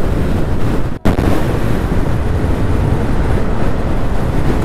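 Loud, constant wind buffeting hits the microphone while riding a Yamaha Aerox 155 scooter on a highway from Mumbai toward Mahabaleshwar. A brief dropout comes about one second in.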